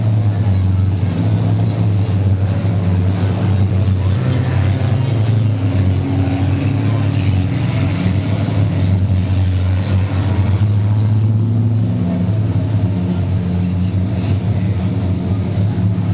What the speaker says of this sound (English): So the cars continue to circulate.